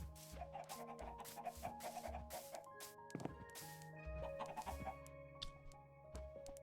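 Chickens in Minecraft cluck repeatedly in short, scattered bursts, fairly close, over game background sounds with no talking.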